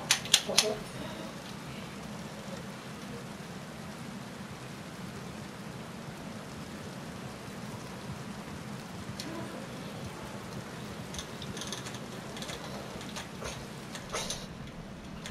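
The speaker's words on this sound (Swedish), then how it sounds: "Regnar." Steady rainfall in the online Western game Red Dead Online makes a continuous soft hiss throughout, with a few sharp clicks near the start and faint scattered taps later on.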